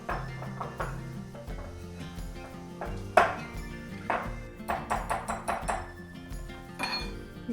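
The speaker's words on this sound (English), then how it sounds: "using a whisk, just whisk that together" Whisk clinking against a mixing bowl while powdered sugar is whisked into a chocolate mixture, rapid metallic taps in uneven bursts, close and fairly quiet.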